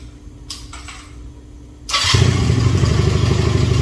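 A Honda CB250 motorcycle with its mufflers fitted is started up, with a few quiet clicks before the engine fires and settles into a loud, steady, close running burble.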